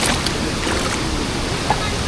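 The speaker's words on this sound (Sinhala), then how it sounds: "උඩින් වතුර පාරක් ගලන් එන්නේ" Cold stream water pours down over rocks in Sinharaja forest, Sri Lanka, making a steady broadband rush close by that stays even throughout.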